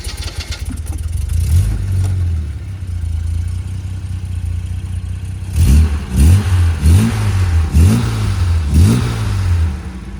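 A 1969 Jaguar XKE Series II engine starts after sitting for a while, settling into a steady idle before a series of five or six sharp revs, close and loud with no talk.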